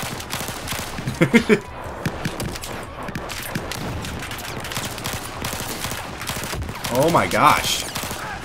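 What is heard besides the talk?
gunfire in the video game Battlefield 4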